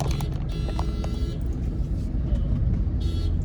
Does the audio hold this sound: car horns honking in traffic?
yes